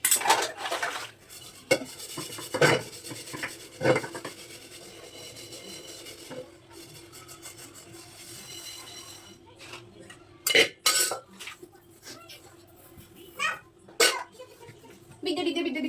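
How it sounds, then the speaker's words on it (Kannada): Pots, dishes and cutlery clatter and knock while being washed and scrubbed in a home kitchen, with scattered bursts of clanking over a steady running-water hiss and a person coughing or talking now and then. "ಪಾತ್ರೆ ವಾಶ್ ಮಾಡ್ಕೊಬಿಡ್ತೀನಿ."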